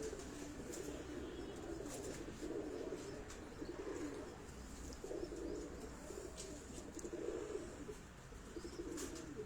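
Breeder pigeons in a loft, a soft repeated cooing that swells and fades in low rolling phrases over faint background noise, fairly close and unaccompanied by talk.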